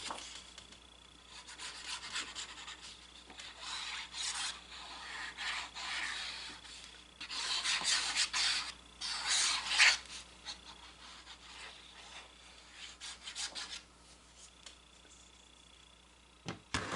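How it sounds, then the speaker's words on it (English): An ink blending tool rubbed along the paper edges of a junk journal makes soft, close scratchy strokes in uneven bursts with short pauses between them. "I'll just fold it backwards and ink in there"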